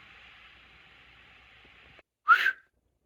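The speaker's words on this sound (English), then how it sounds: "Mr. Squirrel blew the whistle and threw the ball into the air." A whistle blown at a squirrel's ball game sounds once: a single short, shrill blast, loud and close, following a steady low hiss.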